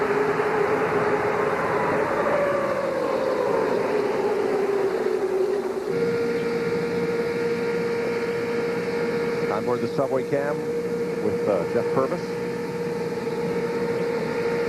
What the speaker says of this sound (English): let's give you a chance to enjoy all this horsepower and all this speed and fury of Talladega